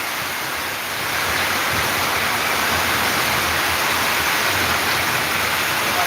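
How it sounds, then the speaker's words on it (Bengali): Heavy rain pours steadily through a nighttime Kalbaishakhi storm in Sylhet, a dense, constant broadband roar that swells slightly after the first second and holds unbroken, loud and close, with no voices. "মোটামুটি বৃষ্টির গতিটা একটু কমছে, এখন বোঝা যায় যে বৃষ্টির গতি কিছু কমছে।"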